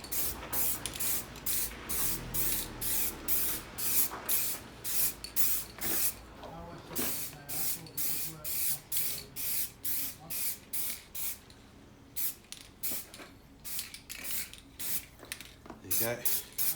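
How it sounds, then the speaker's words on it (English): Satin black aerosol paint sprayed as a guide coat over primer on a classic Mini pickup, rapid repeated short hissing bursts in a steady rhythm, close and fairly loud, with brief pauses between passes. "And then you spray over the whole lot."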